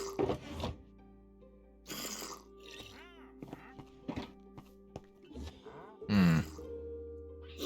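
Zombies groaning in Minecraft Bedrock 1.20, several low moans and grunts spread across a few seconds along with game sound effects, moderately loud and without talk.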